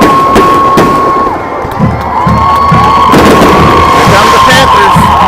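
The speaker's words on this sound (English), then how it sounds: "Got some little firework." Small fireworks go off at a high school football game in a hollow, several sharp bangs booming and echoing over a cheering crowd and shouting, with a tone sounding through.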